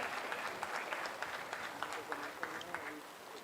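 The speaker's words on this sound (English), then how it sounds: "Clap for them." Applause from a pharmacology conference audience for the competing teams: scattered, fairly faint clapping with irregular sharper claps and a voice murmuring over it.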